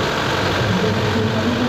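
A Kubota 4x4 tractor engine idles steadily at a farm fair, a continuous low, even rumble held close by for under two seconds with no voices.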